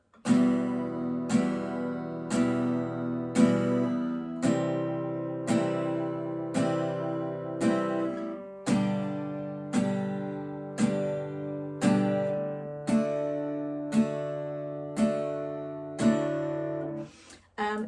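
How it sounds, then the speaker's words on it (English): Guitar chords played as four even down strums per chord, around a dozen ringing strums in a steady beat, close and clear with nothing else. "So that would be 4 down strums on each chord"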